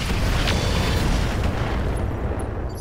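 High-explosive shells firing and exploding in the Roguetech mech video game, a dense, loud booming rumble with a couple of sharper bursts, slowly tapering off.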